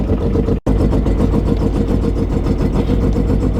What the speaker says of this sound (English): This thing's idling so rough.